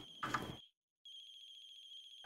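A phone rings in the horror video game Chilla's Art The Closing Shift: a close, electronic ringtone with a brief rustle, a short silent gap, then the ring resumes in a steady warbling pattern.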